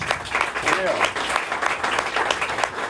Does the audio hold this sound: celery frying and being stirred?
no